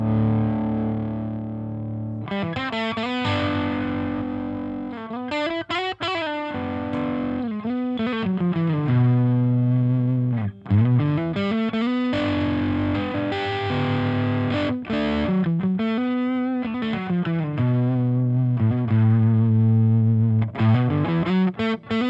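An electric guitar plays through the low-gain channel of a Synergy Diezel VH4 preamp module, with mildly distorted chords and riffs ringing out loud and continuous with short breaks.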